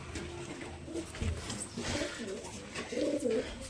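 Pigeons coo softly and repeatedly nearby, with low throaty calls over a busy background.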